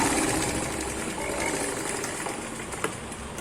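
A sewing machine runs a short burst of stitching along a fabric strip for a doori loop, a rapid mechanical whirring with a light clunk near the end.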